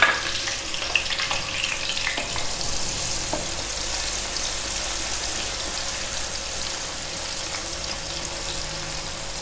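Onions browning in hot mustard oil for chana pulao, giving a steady loud close sizzle and crackle throughout with a few faint utensil knocks early on, no talking.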